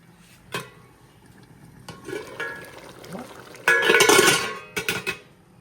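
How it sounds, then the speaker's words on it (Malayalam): Cooked tapioca mashed and mixed in a pot: scattered knocks and clinks of a utensil, then a louder stretch of squelching, scraping strokes and a few final taps, all close by. "ഇനി നമുക്ക് കപ്പ ഉടയ്ക്കണം ഉടച്ച് മിക്സ് ചെയ്യണം"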